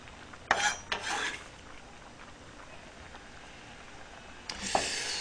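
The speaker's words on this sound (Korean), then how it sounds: "대파 때려 넣을게요" Chopped green onions are tossed into ham and kimchi fried rice in a hot pan: two short bursts of stirring and scraping over a low, steady sizzle, close by and with no speech.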